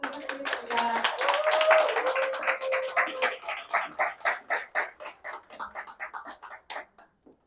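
An audience at a business presentation breaks into applause that swells briefly, then thins into fewer, distinct claps that slow and fade to silence.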